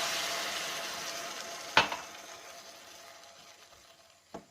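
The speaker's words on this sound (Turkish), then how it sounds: "üzerine bir su bardağı suyum var döküyorum" A glass of water poured into a hot pan of olive-oil leeks, a loud hiss that fades slowly, broken by a sharp clank and a second faint knock near the end, no talking.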